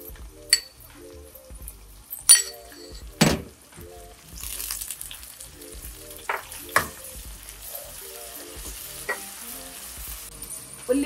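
Onions browning with mint, ginger and garlic sizzle and crackle steadily in a hot pan, with close, sharp stirring scrapes and clinks of a spoon recurring every second or two.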